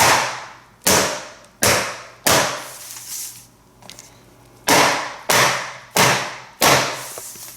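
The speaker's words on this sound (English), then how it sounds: "You want to bang it on your counter like this." A macaron tray of piped batter banged repeatedly on a kitchen counter, sharp loud clattering impacts about one per second with a short pause midway, each hit ringing briefly before fading.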